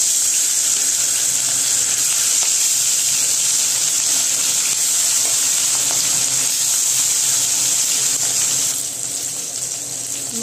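Fish frying in hot mustard oil in a kadai, a steady loud hiss and sizzle that runs unbroken throughout and drops slightly in level near the end.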